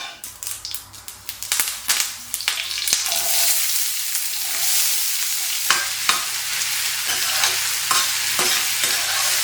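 Carrot, beans and potatoes tipped into a large pan of hot oil and ghee with mustard seeds, urad dal and curry leaves, a clatter of stirring that gives way to a loud, steady sizzle with occasional pops and scrapes.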